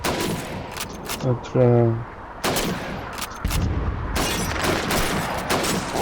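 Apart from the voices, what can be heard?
gunshots at bottles and plates on a shooting range, Call of Duty 2 video game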